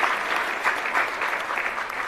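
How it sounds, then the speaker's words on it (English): Audience applause for the Director General at the launch of 4IR centres of excellence, a steady dense wash of many hands clapping, loud and continuous with no break. "Let's give him a big round of applause."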